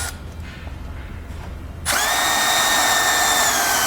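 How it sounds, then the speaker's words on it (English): A power drill with a 1/2 inch bit starts abruptly after a quieter moment, then whines loudly and steadily as it enlarges a hole in a 2018 Jeep's steel frame rail, close by. "I'm going to come back with a 1/2 inch drill bit and enlarge that hole"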